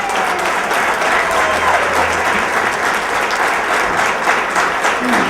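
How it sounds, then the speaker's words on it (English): An audience gives loud, sustained applause to welcome DANR President Francesca Pena, a dense wall of clapping that holds steady for several seconds with no break. "Please help me welcome, with a big round of applause, President Francesca Pena"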